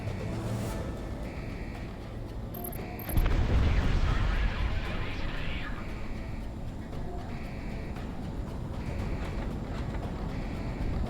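Bombs dropped on ground targets in the flight combat game Project Wingman, a loud blast erupting after a short beep and then rumbling on as a sustained roar under a steady jet drone.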